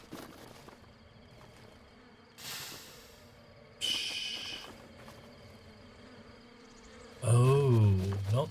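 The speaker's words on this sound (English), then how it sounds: "but full of bees. Covered in bees. Shit, the bees don't like me." Bees buzz in swarms within Breath of the Wild, a steady insect drone rising in loud bursts, the loudest near the end with a strained, wavering vocal-like sound over it.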